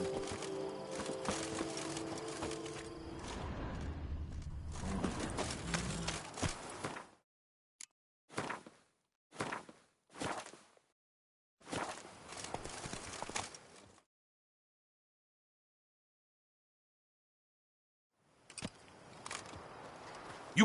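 Roach, a horse in The Witcher, walks with clip-clopping hooves in close, distinct bursts of steps separated by silent gaps, first steady and then in short groups, with no speech.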